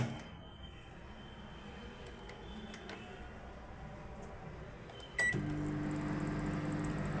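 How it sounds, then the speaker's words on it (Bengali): A microwave oven heating homemade pizza to melt the cheese: a low, steady mechanical hum with a few faint clicks, then a sudden jump to a louder, fuller drone partway through that holds to the end. "আমি আবার মাইক্রো ওভেনে দিচ্ছি চিজটা যাতে গলে যায় একদম"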